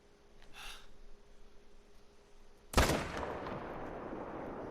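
A hunting rifle fires at a gray wolf in a video game: one sharp, loud shot breaks a quiet outdoor ambience and leaves a rolling, decaying tail.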